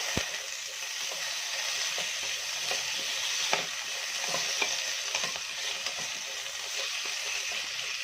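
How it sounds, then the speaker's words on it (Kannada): About half a kilogram of raw tomatoes fries in a pan as chutney for a North Karnataka meal, a faint, steady sizzle broken by light clinks and scrapes of stirring. "ಟೊಮೊಟೊ ಈಗ ಚೆನ್ನಾಗಿ ನಾವು ಒಂದ್ಸತಿ ಹುರ್ಕೋಬೇಕು"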